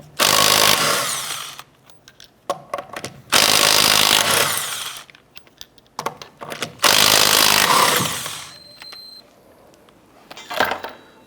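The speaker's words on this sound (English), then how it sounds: "I'm going to go ahead and remove this set of lug nuts." A power tool spins the wheel lug nuts off a 2006-2013 Chevrolet Impala in three loud, close bursts of about two seconds each, separated by quieter gaps with clinks and small taps, and one last short burst at the end.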